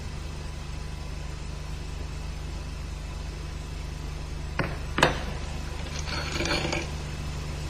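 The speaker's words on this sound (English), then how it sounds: "Block by means of the sprocket retainer and tighten with a 60 Newton-meter torque." A torque wrench tightens the sprocket retainer on an MZ motorcycle engine to 60 newton-meters, giving a few sharp metallic clicks and a brief ratcheting rattle over a steady low workshop hum.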